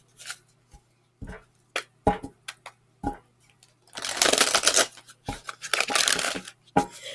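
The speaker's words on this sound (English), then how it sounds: "I just want to get them shuffled up really good." A thick-stock deck of oracle divination cards is shuffled by hand in short crisp bursts of riffling and slapping, with a longer rushing flutter in the middle, close and fairly quiet, without talking.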